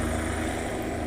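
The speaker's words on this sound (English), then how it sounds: "That's a helicopter, and it's right above us." A helicopter flying directly overhead above a backyard gives a steady, loud, close rotor drone with a faint rhythmic low chop, unbroken and without voices.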